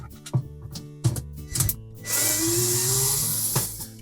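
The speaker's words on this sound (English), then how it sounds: "we simply need to remove those 2 1/4-inch hex head screws" Power driver backing out two 1/4-inch hex head screws from the oven light housing of a GE range, heard as short close whirring bursts followed by a steadier, louder spin.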